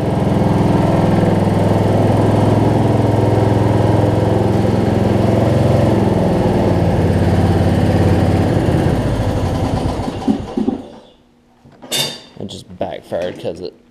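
Weed Eater riding mower engine running loud and steady nearby, then cutting out near the end, followed by scattered metallic clinks and talk.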